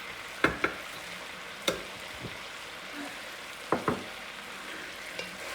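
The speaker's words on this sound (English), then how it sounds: "So let's just stir that all around until the meat's coated pretty well." Browning beef for beef bourguignon sizzles steadily in a pot as a spoon stirs it, with a few sharp scraping knocks against the pot standing out over the quiet, even frying hiss.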